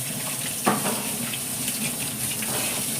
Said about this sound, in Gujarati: ચલ બટેટા ધોવાની પ્રોસેસ ચાલુ છે.